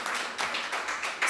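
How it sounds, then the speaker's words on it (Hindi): An audience claps at a Hindi poetry gathering in Indirapuram, Ghaziabad: a short, even burst of hand claps in a quick rhythm, fairly close and bright, with no speech over it. "एक बार जोरदार ताली होनी चाहिए।"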